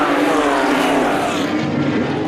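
ROSCAR race cars launch at the start of a race at Magny-Cours, a dense loud roar of several engines accelerating together close by, briefly sweeping and fading.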